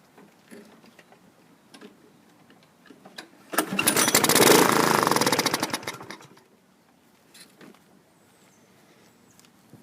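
A Toro Recycler lawn mower with a 2014 4.5-horsepower engine and a faulty pull-cord recoil briefly roars to life after a pull start, running loud for about three seconds before dying back to quiet ticking.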